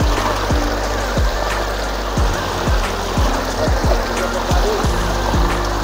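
Cold water streams and splashes steadily in a village jungle setting, a continuous close rushing flow with no voices.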